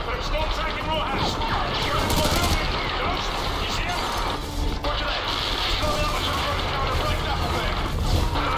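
Militia in Call of Duty: Modern Warfare 2 keep up heavy, constant gunfire, dense rattling bursts and crashes that run without a break under a loud battle din.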